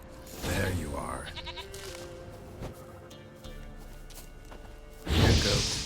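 A goat in a Witcher video game bleats in short bursts, loud at the start and again near the end, over game ambience with soft mechanical rustles and whooshes.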